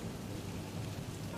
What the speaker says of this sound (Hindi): इतने में बारिश शुरू हो जाती है।